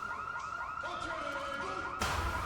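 A car alarm in the zombie survival game Project Zomboid wails with a rapid, repeating rising whoop, moderately faint and alone, before switching abruptly to a harsher, buzzier tone near the end.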